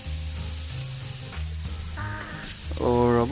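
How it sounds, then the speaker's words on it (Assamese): Kuchia eel pieces frying in a pan, with a steady close sizzle throughout and a few louder bursts of spattering oil toward the end, with no talk. "কুচিয়া মাছখিনি ফ্ৰাই কৰি ল'ব আগতে"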